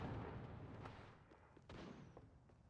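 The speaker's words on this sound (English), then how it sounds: "we're hearing gunfire, they're either shooting boxes down or there's another team around" Gunfire during a match of Apex Legends, several faint distant shots and thumps cracking out irregularly over a low background rumble, with no voice over them.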